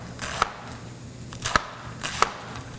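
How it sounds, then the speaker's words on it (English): Three crisp knife strokes slicing vegetables thinly for egg rolls, each a sharp tap on the cutting board spaced about a second apart, close and clear over a quiet room. "Instead of pulling out a whole contraption, another contraption, I just thinly slice it like this"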